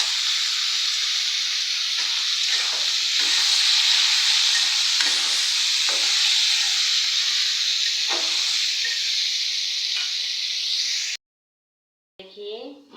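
Vegetables with green chili fry in a pan with a continuous loud sizzling hiss, broken by occasional scrapes of stirring, before it cuts off abruptly and a brief faint sound follows.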